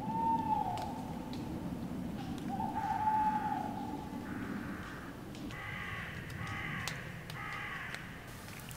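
Crows caw repeatedly in woods at night near a campsite, a series of harsh calls at moderate distance, some grouped in quick runs, over a low steady background rumble.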